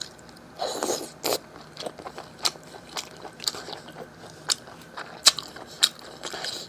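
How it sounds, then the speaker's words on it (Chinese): Close, crisp crunching comes from someone chewing food in an eating show. Sharp bites and crackles arrive at irregular intervals over a quiet background, with no talk. "嘎吱嘎吱的响， 牙齿都在磨啊磨啊磨。"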